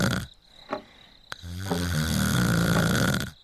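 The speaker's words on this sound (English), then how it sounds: "their best friend, Nicholas Gnome, snored not so gently" A cartoonish snoring effect for a sleeping gnome in a children's bedtime story: a few soft breaths and clicks, then a loud, rumbling, drawn-out snore that swells and holds steady.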